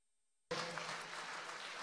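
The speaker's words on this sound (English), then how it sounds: "Come on, keep on clapping." A church congregation bursts into steady hand clapping after a moment of silence, a dense, continuous patter of many hands that holds an even level until the end.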